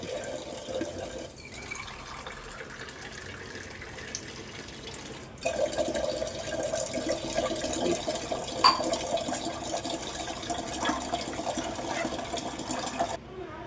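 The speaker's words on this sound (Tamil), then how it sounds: "இன்னும் ஒரு டம்ளர் தண்ணி ஊற்றணும்" Water runs steadily into a container, a quieter stream at first then a fuller, louder pour, with a faint clink partway through.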